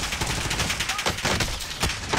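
Dense gunfire in an Alcatraz match of a video game, loud and close, with rapid overlapping shots and sharp cracks repeating over a constant roar of battle noise.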